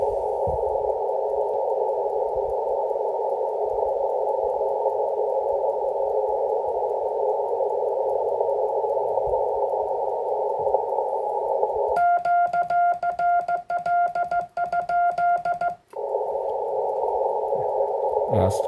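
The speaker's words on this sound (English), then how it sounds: "See these noise spikes?" Yaesu FTdx10 radio receiver after midnight putting out a steady band of hiss with interference, then a burst of rapid, buzzing noise spikes for a few seconds before the plain hiss returns.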